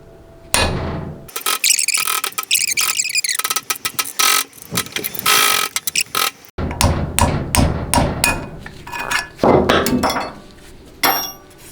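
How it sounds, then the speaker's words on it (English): Sharp, loud hammer blows driving a bushing out of a 68RFE automatic transmission with a rounded tool, struck in irregular bursts of metallic clanks and thuds at close range, with brief pauses between runs. "So just go on one side and smack it forward."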